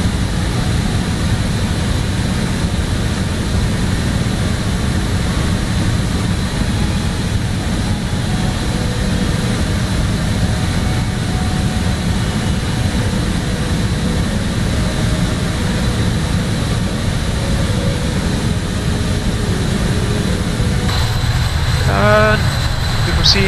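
Steady, loud aircraft engine drone at cruise altitude in Microsoft Flight Simulator, a continuous broadband hum held throughout with a brief electronic click burst near the end.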